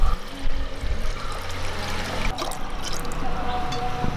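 Water pours steadily into a metal cooking pot for boiling soya chunks, a continuous splashing rush with a faint low hum underneath.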